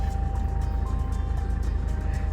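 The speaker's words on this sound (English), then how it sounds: "This car is loud." A steady, loud engine rumble fills the clip, a constant low drone from inside or beside a running car, with no talking.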